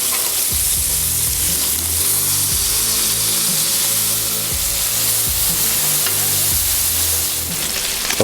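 Bacon sizzles loudly on a hot Blackstone griddle, a dense, constant crackling hiss close by that stays even from start to finish.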